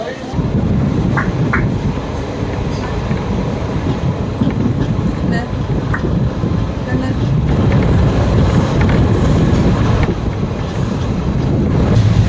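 A Salem–Karur passenger train runs steadily with a loud, continuous rumble and faint clattering wheels on the rails, heard from on board, with voices talking over it throughout.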